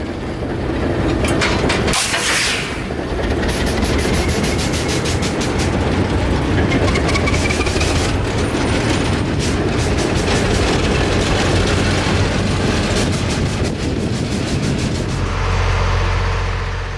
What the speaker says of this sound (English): Once they pull the old Alco past the switch, Alex Martin lines the switch for the siding track.